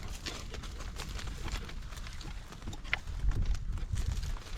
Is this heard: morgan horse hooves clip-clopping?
yes